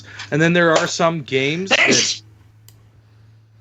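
Someone speaks briefly and then lets out a sharp, noisy sneeze close to the microphone, followed by quiet room tone.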